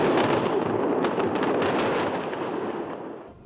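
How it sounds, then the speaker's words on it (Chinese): Explosions in the hills of southern Lebanon during Israeli airstrikes, a rapid crackling series of sharp blasts and bangs over a rumbling background, gradually thinning out and fading toward the end. "国界另外一边的黎巴嫩南部的山边传出阵阵爆炸声"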